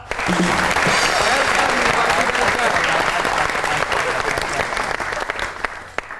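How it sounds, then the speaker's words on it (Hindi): A studio audience at a Pakistani comedy talk show breaks into loud, sustained applause that stays dense and even for several seconds before tapering slightly at the end. "आपकी बहुत सी तालियों में मिसेस मोहम्मद राना।"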